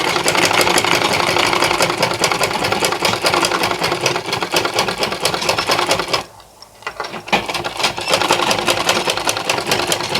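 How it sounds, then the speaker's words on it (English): Sewing machine stitching a side slant pocket, a fast, steady mechanical whirr with rapid needle ticks that pauses briefly in the middle and then resumes at the same pace, with no talking. "and then I sew it down"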